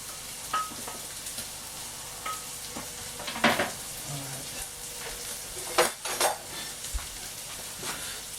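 Shallots and spring onion fry in oil in a pan for a Thai-style pork rice bowl, giving a faint steady sizzle broken by occasional stirring scrapes and utensil clinks.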